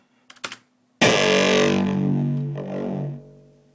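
Distorted electronic kick drum sample, re-bounced and distorted again, plays as one loud, sustained, gritty boom with a long decaying tail, preceded by a few brief faint clicks.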